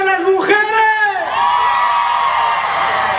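Women in a crowd shout and cheer at a music event, a loud burst of high whoops and yells that rise and then trail off into a sustained cheer.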